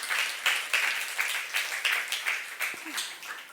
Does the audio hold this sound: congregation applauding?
yes